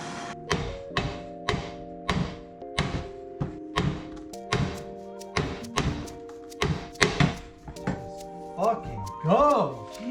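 Hammer blows strike heated metal on a Toyota Tacoma front axle, about a dozen sharp, ringing thunks in an uneven rhythm, close and loud, with a few grunts and bits of talk near the end.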